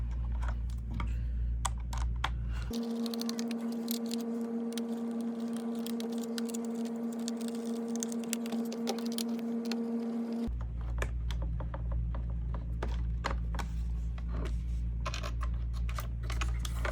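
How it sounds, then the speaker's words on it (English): Screws are driven back into a phone mount bracket in a 2017-2025 Mazda CX-5. A steady powered-driver whine runs for about eight seconds, framed by close clicking and handling noises. "you're just gonna put all 7 of your screws right back in"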